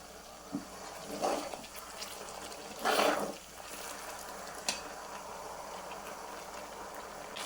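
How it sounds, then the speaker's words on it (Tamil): Tomato paste dropped into hot oil while making tomato thokku gives a couple of brief, soft sizzling bursts, the strongest about midway, over a quiet kitchen background with no talking. "இப்போ இந்த தக்காளி பேஸ்ட்டையும் போட்டுடலாம்."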